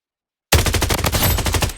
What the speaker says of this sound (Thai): โอ้โหมึงใช้ปืนขนาดนั้น